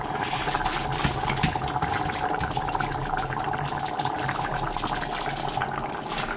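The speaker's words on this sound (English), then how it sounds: "And then roast it. So here we're just frying it up." Obattu, a sweet South Indian puran poli flatbread, frying in a pan, giving a constant crackling sizzle with fine spitting pops and no voices.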